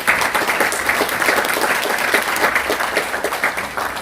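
A crowd applauding as a lawmaker enters a book concert held for a Korean lawmaker's book launch, with dense, steady clapping filling the room without a break and no talk over it.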